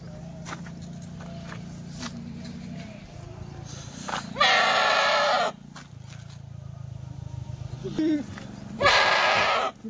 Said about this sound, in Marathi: एकच नंबर बकरी